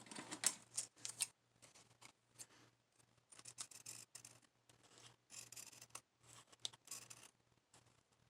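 Paper being trimmed for handmade pocket tags, a run of quick dry snips and scratchy cuts coming in irregular bursts, close and fairly faint, with no one speaking.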